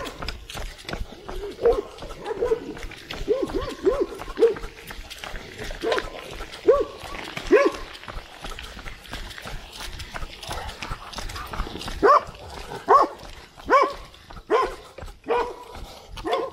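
A dog runs beside a bicycle, barking in short repeated bursts and panting amid rhythmic patter, fairly close, with a person talking intermittently over it.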